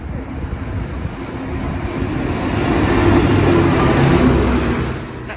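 Network Rail track tamper rolling through Lichfield Trent Valley station on the West Coast Main Line, a broad rumbling roar that swells to a peak and then starts to ease.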